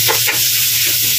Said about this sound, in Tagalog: tapos ilalagay ko na po yung ating ground pork or pork giniling